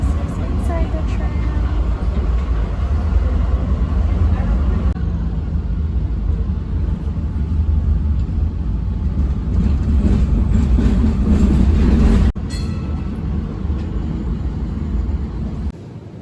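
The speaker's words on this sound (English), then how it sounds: "This is inside the tram." A loud, steady low rumble of a moving tram, heard from inside, fills the whole stretch, with rattling and a brief clunk partway through, no speech.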